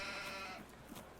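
A single sheep in a Farming Simulator 19 flock lets out a short, wavering bleat, fairly quiet and brief, fading out after about half a second.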